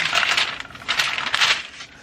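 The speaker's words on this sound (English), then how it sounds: "Make lots of noise with the parchment paper." Crinkly parchment paper rustled and crumpled in a few close, loud bursts while a pizza is being prepared.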